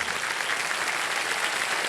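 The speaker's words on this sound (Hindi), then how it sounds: "तालियां बज जाए इनके लिए।" A television game show studio audience gives a sustained burst of applause, dense clapping that stays steady and fairly soft throughout, with no voices on top.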